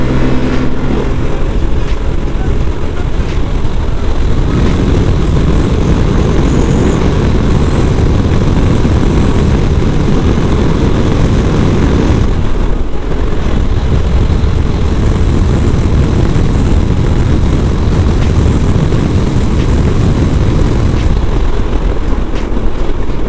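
A Yamaha NMAX scooter with a tuned CVT roars loudly and continuously as it accelerates hard to race an XMAX, a steady close engine drone mixed with wind rush and no voices.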